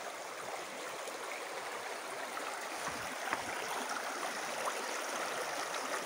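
A flowing stream near a waterfall in Três Coroas, Brazil, gives a steady, broad rushing wash of water with light gurgling, continuous and fairly close, with no voices.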